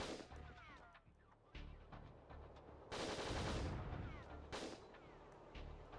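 Machine gun fire in the PS2 game WinBack: Covert Operations, broken bursts of rapid shots separated by brief gaps, with a sustained louder volley in the middle and high electronic beeps scattered throughout.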